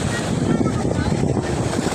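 Strong ocean waves at a beach in Zambales crash and wash in a churning roar, mixed with heavy wind buffeting against the microphone, dense and close throughout.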